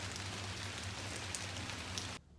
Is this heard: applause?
no